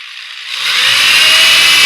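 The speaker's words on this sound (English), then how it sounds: "Now we'll just put the wood screws in." A power drill spinning up as it drives wood screws into a gate, a loud high-pitched motor whine rising quickly and holding steady, very close.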